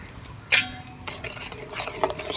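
A spoon scrapes and clinks against a pan as sugar syrup with cardamom is stirred, one sharp metallic clink followed by softer scraping and a faint simmer.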